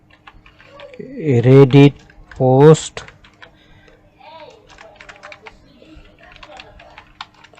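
Typing on a computer keyboard, soft scattered key clicks running through most of the stretch, close by and faint, with a brief burst of speech near the start.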